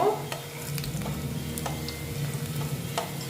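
Dal pakoras sizzling in oil with a soft continuous crackle, punctuated by scattered clicks and scrapes of a utensil against the pan.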